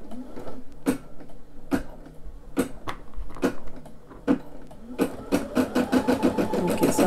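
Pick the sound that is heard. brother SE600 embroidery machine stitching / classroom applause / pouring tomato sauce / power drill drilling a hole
brother SE600 embroidery machine stitching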